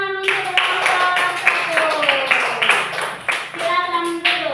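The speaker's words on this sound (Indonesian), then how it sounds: "tepuk tangan untuk kelompok" Classroom applause for a student group: a run of rhythmic, fairly close hand claps mixed with children's voices calling out together over the clapping.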